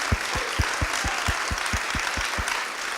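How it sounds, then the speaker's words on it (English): A town hall audience applauds Lawrence Lessig, a broad wash of crowd clapping with a regular low thumping pulse running beneath it at a steady beat. "let's give Larry an enormous round of applause for leading on this issue"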